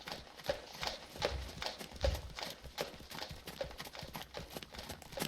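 A horse's hooves clop in a steady two-beat trotting rhythm on soft ground during a riding class, fairly quiet and close, with a faint snort partway through.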